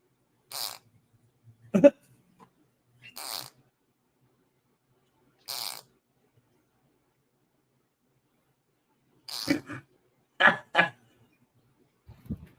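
A few short, raspy fart-like bursts spaced apart with silence between, ending in a quick cluster of sharper calls.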